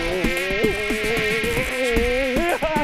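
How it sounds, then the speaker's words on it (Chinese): A swarm of flies buzzes close and loud as a comic drama sound effect, several overlapping whining drones wavering in pitch for under three seconds with no talk. "而是一堆苍蝇围着你。"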